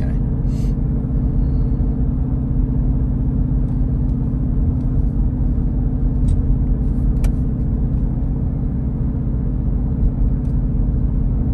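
A car cruising at about 30 miles an hour gives a steady, continuous low road and engine rumble from inside the cabin, with a few faint clicks and a brief high whine.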